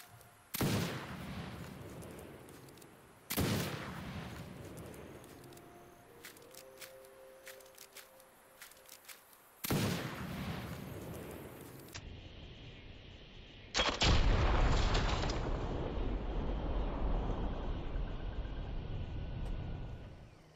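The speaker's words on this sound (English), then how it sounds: "A bullet came out of the pistol when I was mid-swap to the machine gun." Black powder rifle and pistol shots ring out in Fallout 76: four loud, widely spaced reports, each with a long, decaying echoing tail, the last one the heaviest, rumbling on to the end.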